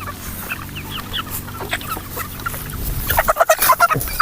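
Three-month-old White Hatch chickens clucking and squawking nearby in a farm setting, scattered calls early that build into louder, rapid clucking bursts toward the end.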